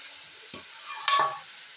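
Green chillies go into a pan of frying chicken with ginger-garlic paste for chicken polao, giving a soft sizzle and two quick stirring scrapes close by, with no talking.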